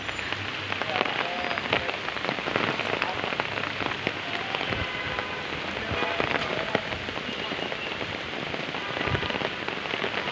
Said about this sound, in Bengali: বৃষ্টিটা ভালো লাগতেছে।